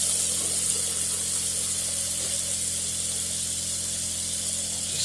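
Hot water tap running steadily on a narrowboat as the hot water tank is drained, a continuous hissing, spraying flow with no talk, close and even throughout.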